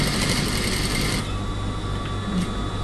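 Domestic sewing machine running a backstitch while fitting a zipper, a dense steady mechanical whir and rapid needle clatter, close and continuous, with a slight change in pitch partway through.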